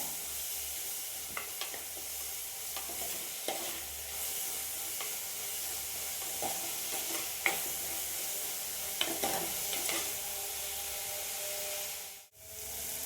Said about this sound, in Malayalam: ഉള്ളി, തക്കാളി, കറിവേപ്പില എല്ലാം കൂടെ നന്നായിട്ട് വഴണ്ടി വന്നിട്ടുണ്ട്